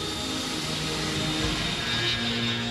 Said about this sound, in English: U-2 pilot Francis Gary Powers took off from Peshawar, Pakistan, on a flight that would test the plane's endurance to the very limit.